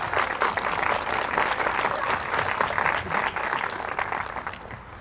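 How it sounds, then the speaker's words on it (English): Dense, steady applause from an audience at the Valley Center Rodeo pageant, cheering rodeo queen contestants; many hands clapping at once, loud and continuous, fading slightly toward the end. "let's give them a round of applause"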